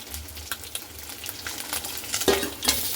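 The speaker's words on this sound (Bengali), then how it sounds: "বাকি মাছগুলোও কিন্তু আমি ভেজে নিচ্ছি" Pieces of snakehead fish frying in oil in a pan, a soft sizzle broken by scattered scrapes and clinks of a utensil turning them, fairly close.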